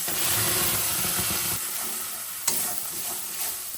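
Ground spice paste hits hot oil in a new wok with whole garam masala, a loud close burst of sizzling and spattering that settles slightly, with a single clank of the spoon.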